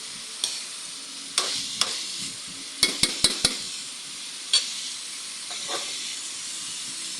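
Pork dinuguan with blood and vinegar is stirred in a pan, giving a soft steady sizzling hiss broken by several sharp scraping and clinking strokes of the spoon against the pan.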